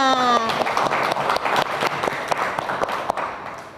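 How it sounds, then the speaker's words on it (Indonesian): Audience applause at the close of a dengue-fever awareness presentation, a brief burst of hand claps following a short voice at the start, fading out over a few seconds. "Tepuk tangan dulu untuk kita semua"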